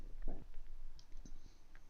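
Mouse clicks starting the Backlot map in Call of Duty 4, a few light sharp clicks heard faintly alongside soft background sounds.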